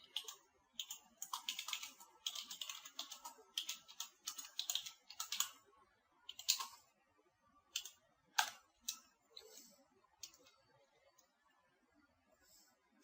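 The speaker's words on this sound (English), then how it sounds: "to understand that I need to type some paragraph here." Fingers type a paragraph on a computer keyboard, making quiet, rapid clusters of key clicks with short gaps and a few sharper isolated taps, heard alone and close.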